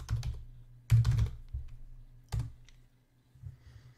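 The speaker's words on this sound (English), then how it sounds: "If you go to Google and just type in Jeffrey Weinhaus holster," Computer keyboard typing a search, heard as short bursts of clicky keystrokes separated by pauses, close and clear with no talking.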